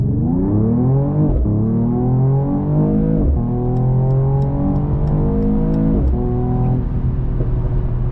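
Mercedes-AMG E53 sedan engine accelerating hard, 2023 model: a loud, close, continuous rising engine note that climbs through repeated gear changes with brief dips between shifts, heard alone without talk.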